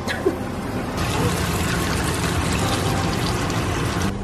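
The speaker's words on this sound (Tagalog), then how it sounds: "Tapos lagyan natin ng tubig. Konti-konti lang." Water poured a little at a time into a cooking pot in a home kitchen, a steady trickling splash running continuously at close range with faint background noise.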